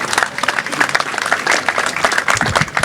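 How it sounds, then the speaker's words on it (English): A brief, lively burst of audience applause at an outdoor historical marker ceremony, many hands clapping close and busy throughout, with a voice faintly mixed in. "please give a round of applause for the Honorable Nancy Van Rees."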